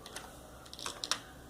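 A quiet run of keystrokes on a computer keyboard, a few soft scattered taps followed by a quicker cluster of clicks, close by with no voices.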